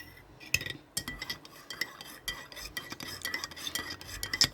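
A metal spoon stirs instant coffee in a cup, giving a steady run of quick scraping clinks against the sides at close range, with no voices present.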